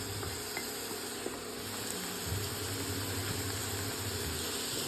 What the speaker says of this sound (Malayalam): ഉള്ളി കുറച്ച് വഴണ്ടതിന് ശേഷം നമുക്ക് പച്ചമുളകും തക്കാളിയും കൂടി ഇട്ട് കൊടുക്കാം